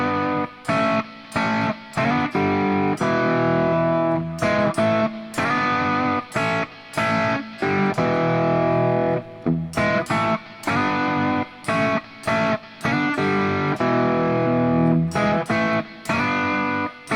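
A distorted electric guitar plays a riff, switching between major and minor, with loud, chunky chords cut by short rhythmic gaps and repeated phrases.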